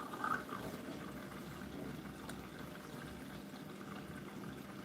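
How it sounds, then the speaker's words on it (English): A Hoover washing machine filling with water: a soft, continuous rushing and bubbling of water flowing into the drum, steady and fairly quiet throughout. "This is adding a lot of water,"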